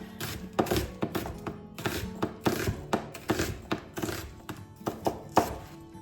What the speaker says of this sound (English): Now the onions you can cut any way that you want, but I'm going to do them length